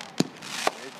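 A Blonde Joke 36-shot backyard firework cake at a New Year's Eve show, two sharp pops about half a second apart, with a hissing burst between them.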